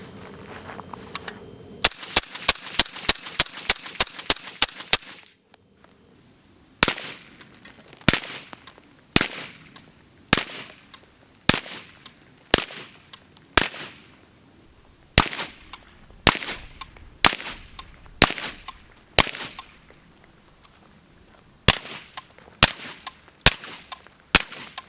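Suppressed rifle shots, Radical Firearms Sinter and an integrally suppressed rifle, fire with sharp metallic rings off steel targets: a rapid string of about a dozen cracks, a pause, then steady single shots spaced roughly a second apart, loud and close.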